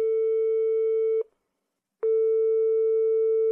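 A telephone line tone sounds while a call is being placed: a steady electronic beep holds for over a second, stops for a short gap, then returns just as long and clean.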